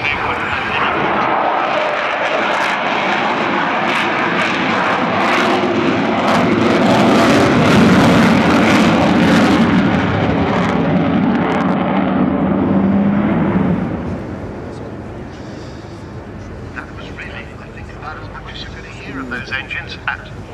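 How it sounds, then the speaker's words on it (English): Avro Vulcan bomber at an air display, its engines running at full power in a loud, sustained roar that swells around the middle and then drops sharply to a quieter rumble as the aircraft moves off. "Those engines at full chat"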